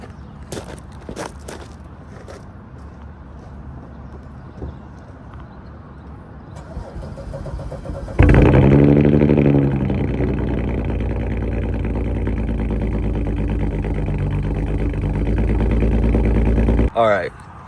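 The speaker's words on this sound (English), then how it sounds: "we're gonna hit a quick cold start for y'all real quick" A 2008 BMW 335i cold start: quiet surroundings and a few footsteps, then the engine cranks and fires with a loud burst at about eight seconds and settles into a steady, close idle before cutting off near the end.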